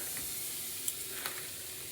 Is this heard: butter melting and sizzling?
yes